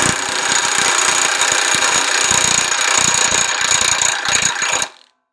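A Milwaukee 2767 cordless impact wrench runs on its second power level, hammering steadily and loudly for about five seconds before stopping abruptly.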